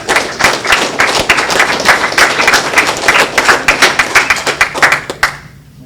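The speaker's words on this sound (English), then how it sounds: "You can clap." An audience at a high school wrestling team end-of-year celebration claps, a burst of close, crisp, fairly loud applause that runs steadily for several seconds before stopping abruptly.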